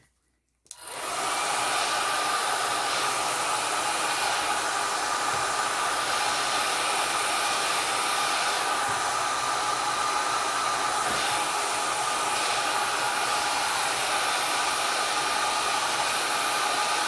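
A hair dryer switches on after a brief silence and blows steadily and loudly to dry alcohol ink on an art card, a continuous close airy roar with no talking.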